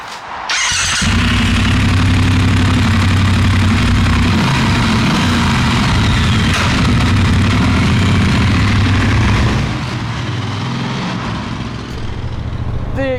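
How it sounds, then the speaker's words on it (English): A motorcycle engine and exhaust roar loudly and continuously inside a tunnel, with a steady low drone that holds for about ten seconds before easing slightly. "The exhaust, the engine noise, the vibrations from the engines coming through the handlebars"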